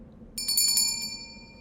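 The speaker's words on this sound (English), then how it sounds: "tug at the familiar bell pull" A front-door bell rung by tugging a bell pull, giving a bright ringing jangle of several quick strikes that decays over about a second against a low background hum.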